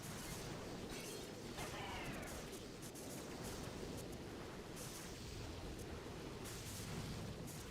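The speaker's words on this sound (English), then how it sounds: "those doom cannons are a problem" Doom cannon blasts in the mobile strategy game Boom Beach, a dense, steady barrage of booming explosions and crackling impacts that rolls on without pause at a low level.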